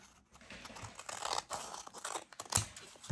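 Scissors cutting paper scraps for a handmade journal make a few quick crisp snips and rustles, close and fairly loud, with short pauses between cuts.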